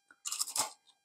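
A single close, crisp crunch of a cracker being bitten and chewed in a quiet room, one loud burst lasting under a second with a faint trailing crackle.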